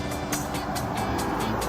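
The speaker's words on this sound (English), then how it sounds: "Another car coming." A car drives along a rural road in Borneo, a steady broadband engine and tyre rush heard close from a moving motorcycle, with wind noise and rhythmic thumps throughout.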